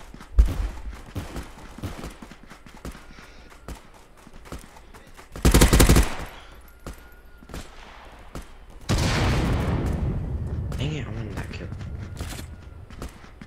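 A bolt-action rifle fires in a VR survival shooter, with one sharp loud shot standing out among scattered clicks and distant pops, then a long noisy stretch with voices.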